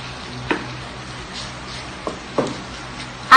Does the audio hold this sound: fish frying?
yes